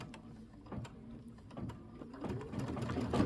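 A computerized embroidery sewing machine stitches a trim line on a quilt block, giving a quiet, close, steady mechanical whirring with rapid needle ticks and faint rhythmic clatter.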